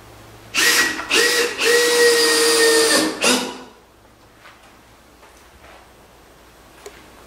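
A power drill drives 2-inch screws into the planks of a Wright skiff being built, with four loud, close bursts of whirring in quick succession followed by quiet shop ambience.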